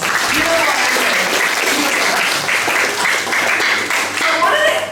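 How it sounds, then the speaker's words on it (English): Warm round of applause from a middle school classroom audience, dense continuous clapping that holds steady for several seconds at close range with some voices mixed in. "everyone give Jade a round of applause"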